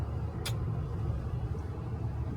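Cars sit in standstill highway traffic on the Belgaum to Mumbai road, a low, steady engine rumble from inside a vehicle, with a brief sharp click near the start.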